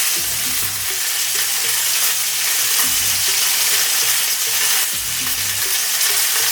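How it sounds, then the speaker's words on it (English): Onions and mushrooms sauté in a hot pan with a steady loud sizzle, and regular stirring scrapes through it in a repeating rhythm. Nobody speaks. "get those nicely sauteed up, quick"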